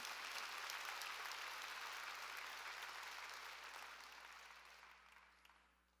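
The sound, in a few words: congregation applauding in church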